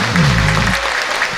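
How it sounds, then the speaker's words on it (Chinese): Audience applause at a pop song concert during a guest game segment, a steady wash of clapping through the whole short stretch, with a faint voice or tone underneath at the start. "比心，来掌声。"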